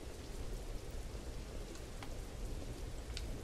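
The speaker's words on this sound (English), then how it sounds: "It's raining. It's poodling that... oh, it's gotten heavy." Rain pours steadily in the open world of the horror video game Welcome to Hanwell, a soft, even hiss of heavy rainfall with a few faint droplet taps and no talking.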